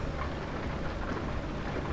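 Steady rain falls during a car trip in a Mercedes through Germany, a dense continuous patter with a low rumbling undertone, even and fairly loud with no voices.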